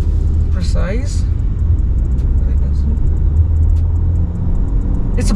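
A 2024 BMW 5 Series luxury sedan driving on the road, heard from inside as a loud, steady low rumble of engine and tyre noise, with a few brief higher noises near the start, continuous throughout.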